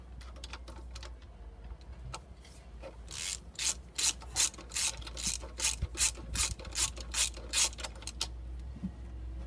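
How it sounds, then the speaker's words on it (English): A ratchet works on the cylinder head bolts of a Chevy 350 V8, giving close, rapid clicking runs that grow louder and more regular in the middle, over a steady low hum. "So all I have to do now is to take the bolts off using a ratchet,"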